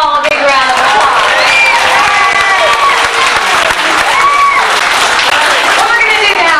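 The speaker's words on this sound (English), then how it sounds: "Give them all a big round of applause." A crowd applauding and cheering at a Universal Studios live game show, loud sustained clapping filling the whole stretch with a host's voice ringing over it.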